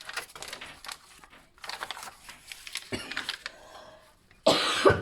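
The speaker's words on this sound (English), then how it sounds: "I will be coughing all through the rest of this video." A person coughs several times in short bursts, close to the microphone and separated by pauses, with a louder rustling noise near the end.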